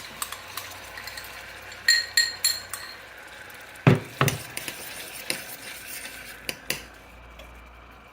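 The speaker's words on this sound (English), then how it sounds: "So now, when you got your garlic in there like that, you're going to add the tomatoes." Tomatoes go into a pan of garlic and are stirred, giving scattered clinks and scrapes of a utensil against the pan, with one sharper knock midway. The sounds are close and intermittent over a soft background.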